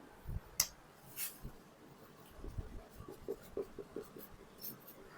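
A black marker squeaks and scratches across a board in short strokes and taps, faint and close, with no talking over it.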